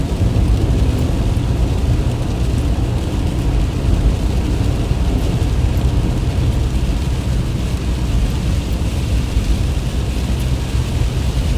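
An Ohio thunderstorm is heard from a storm-chasing vehicle as a continuous loud wash of heavy rain with deep rumbling underneath, steady for the whole stretch with no talking.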